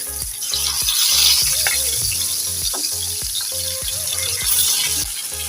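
Koi fish fry in mustard oil in a kadai, giving a loud, continuous, close sizzle with bubbling spatter and occasional clatter from stirring, and no one speaking.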